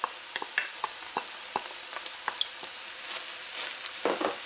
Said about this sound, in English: Okay, now that the meat has started to brown, at this point you want to add in your onions.